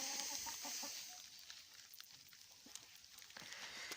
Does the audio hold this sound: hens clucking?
yes